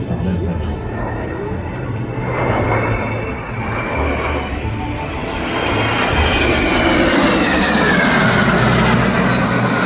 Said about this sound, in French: qui vole sur Fluvier Magister, l'avion qui a notamment équipé la patrouille de France jusqu'en 1981